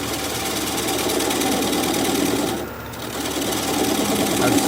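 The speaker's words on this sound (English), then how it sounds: "I'm just clearing out room so the gouge can get in there and make the final cut." Wood lathe spinning a wooden bowl at about 550 RPM while a swept-back gouge cuts the inside, giving a steady, close, buzzing hum with a rapid rhythmic chatter and a brief dip in loudness midway.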